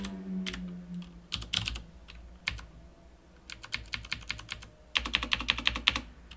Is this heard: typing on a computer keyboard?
yes